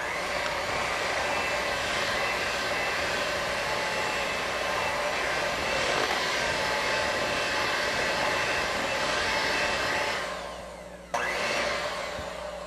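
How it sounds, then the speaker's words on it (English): An electric mixer whirs steadily through sweetened condensed milk, cream cheese and peanut butter pie filling, a loud continuous motor drone that dips briefly near the end before resuming. "I'm going to blend it again."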